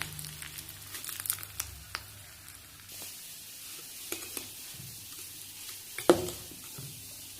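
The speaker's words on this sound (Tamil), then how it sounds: "இப்போ அந்த இதை எடுத்து அப்படியே நம்ம தேங்காய் சட்னியில் கொட்டிடலாம்" Hot oil tempered with curry leaves is poured into coconut chutney, giving a faint crackling sizzle with scattered small pops and clinks throughout, one sharper snap near the end.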